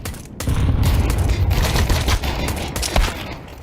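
Dense burst of rapid video-game gunfire with a grenade blast, loud and close, crackling continuously for a few seconds with no talk over it.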